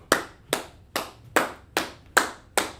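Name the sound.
class applauding a student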